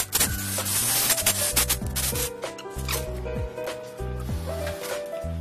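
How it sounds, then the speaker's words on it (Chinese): An electric drill bores a wire hole through a magnetic track light rail for a stretch ceiling, its motor whine rising and falling in pitch in repeated bursts with grinding friction, close and loud. "用电钻钻出线孔"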